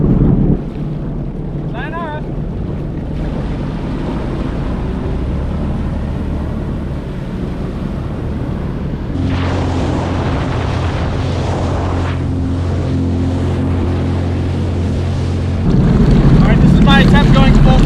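A jet ski runs hard across chilly lake water in Idaho, its engine droning loud and steady under heavy wind buffeting and water spray, with a brief voice at the end.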